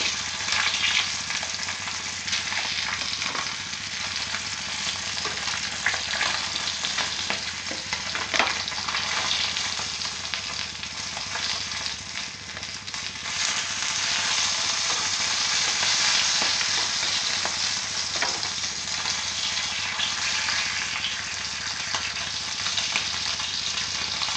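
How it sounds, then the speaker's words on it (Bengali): Fish pieces fry in hot oil in a pan, giving a continuous bright sizzle and crackle that stays loud and steady for the whole stretch, with occasional sharper spits and no talking. "বাকি মাছগুলো আমি এইভাবে ভেজে নিচ্ছি।"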